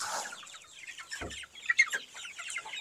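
Rhode Island Red and Black Australorp chickens clucking and calling close by, a busy overlapping run of short clucks with one louder squawk midway, no voices over them.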